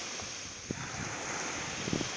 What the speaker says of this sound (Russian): Вон Леночка плещется в море.